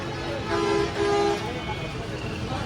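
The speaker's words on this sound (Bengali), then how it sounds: "আর এত হর্ন এখানে।" Vehicle horns honk on a busy Rajshahi street amid traffic, two prominent toots in quick succession over a steady roadway rumble, with voices in the background.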